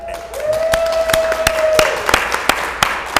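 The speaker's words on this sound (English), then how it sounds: "You feel free to clap." A small studio audience claps in sharp, separate, spaced strikes, with a sustained whistled or sung tone early on and a softer crowd murmur underneath.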